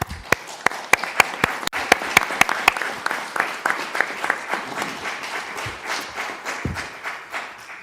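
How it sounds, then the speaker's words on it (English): Audience applause at a police chief candidates meeting, a burst of sharp claps that gradually thins into a lighter, scattered patter over several seconds. "Would you please join me in just giving our candidates a round of applause?"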